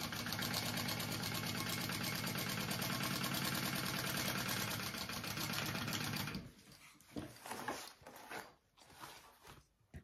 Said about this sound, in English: And we're gonna sew that together.